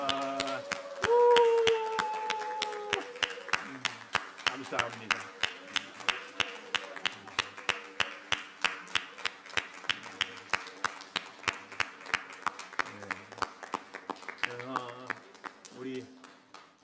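A church congregation claps in a steady, rapid rhythm during a Sunday worship service, sustained and moderately loud. A voice briefly speaks over it at the start, and musical tones sound underneath.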